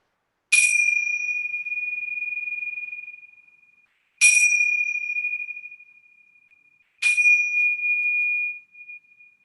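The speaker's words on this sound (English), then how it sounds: "Kalei is going to chime the bells. That gets our minds ready for the yoga." Three bright metallic bell chimes ring out to open a family yoga session, each struck cleanly and left to ring with a long, clear sustained tone that slowly fades before the next strike.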